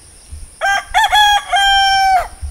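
A rooster crows once, close and loud, on a rooftop at a home under construction in the Philippines. The call is a full, sharp cock-a-doodle-doo with a stuttering start and a long held final note, and it stands alone over quiet background.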